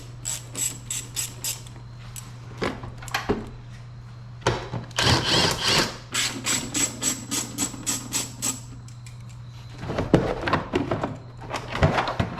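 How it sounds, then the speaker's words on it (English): Removing the blower belt from a 2013 Mustang GT engine brings bursts of close ratcheting clicks and metallic mechanism clatter, with brief pauses and a dull thunk between runs. "I'm actually gonna go and remove the blower belt just so it frees up some room into the manifold and the coolant lines there."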